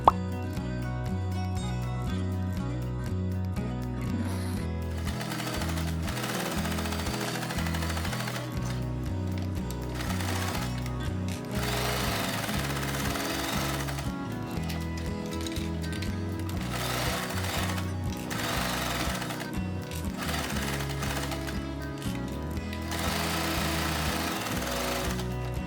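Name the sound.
sewing machine stitching a fabric face mask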